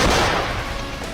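Gunfire from Ukrainian soldiers holding high ground in Bakhmut, a short burst of sharp reports with a loud crack at the start that fades into an echoing tail.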